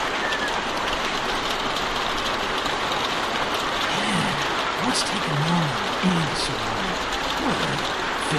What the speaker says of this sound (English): quit sitting out in the rain like a damn deer